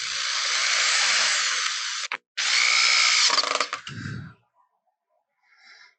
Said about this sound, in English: very long to drill these in.